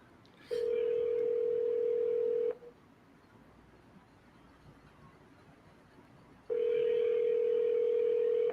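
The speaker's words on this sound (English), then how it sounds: "Jake, make the next dial quick" A steady telephone dial tone sounds for about two seconds, then stops, and after a quiet gap it returns, heard loud and close on a handset during a cold call to a barber.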